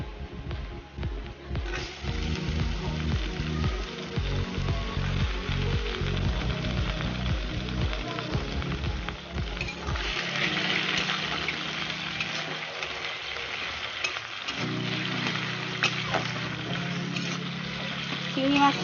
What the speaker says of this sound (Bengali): চিংড়ি মাছটা আমি তেলের মধ্যে হালকা একটু ভেজে নেব।